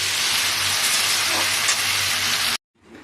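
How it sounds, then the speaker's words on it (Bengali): Potato pieces fry in oil with salt and turmeric, a steady dense sizzle and hiss that cuts off abruptly near the end, leaving brief quiet. "এই নুন হলুদ দিয়ে ভাজবো আলুটা"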